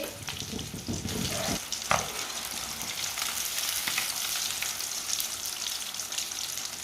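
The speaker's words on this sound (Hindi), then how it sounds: "मच्छी हमारी फ्राई हो चुकी है" Fish frying in hot oil gives a steady, dense sizzle and crackle, close and fairly loud, with one brief sharper pop near the start and no voices.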